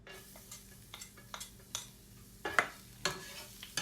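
Garlic goes into hot oil in a pan for fried rice, giving a faint low sizzle under quiet stirring and several sharp scrapes and clinks of a utensil against the pan.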